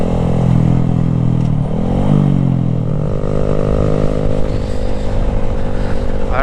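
A Honda Grom motorcycle with its baffle removed rides off-road through canyons. The loud, raspy exhaust revs up and drops back, then settles into a rising drone.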